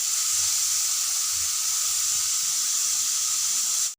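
Vegetable pieces with salt frying in a pan on a low flame for a veg cutlet, a steady close hiss of sizzling oil that holds evenly throughout with faint low bumps underneath.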